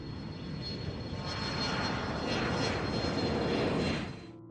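A WWII aircraft with an Allison V-1710 engine passes with a loud, steady propeller-driven drone that swells slightly through the middle and fades away at the end, with no voices.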